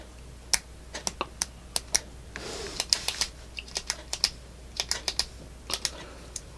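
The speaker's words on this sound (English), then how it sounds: "Can you hear the click? Fairly soft" A Pen+Gear retractable gel pen clicks over and over in an irregular series of sharp, soft, close-up clicks, with a brief rustle in the middle and no talking.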